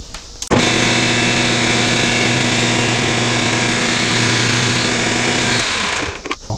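A metal lathe facing off a part in a machine shop runs with a steady, loud droning hum and faint cutting hiss for several seconds, starting and stopping abruptly, close up with no talk.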